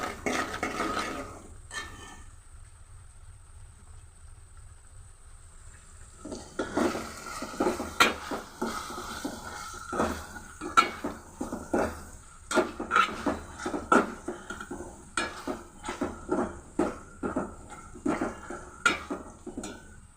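Utensils clink and scrape against pots while ridge gourd and potato curries are stirred, sparse knocks at first, then a quiet pause, followed by a busy run of close metallic taps and scrapes.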